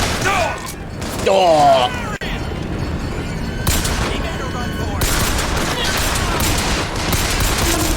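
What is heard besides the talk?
gunfire in video game BioShock Infinite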